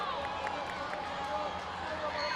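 A women's field hockey crowd at a world final between Argentina and Australia swells as spectators rise, a broad, steady roar of noise sitting beneath a commentator's voice.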